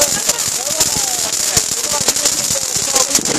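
Fireworks and firecrackers going off during an Independence Day celebration, a steady run of sharp crackles and pops with whistling trails, fairly loud and continuous, with voices talking over the noise.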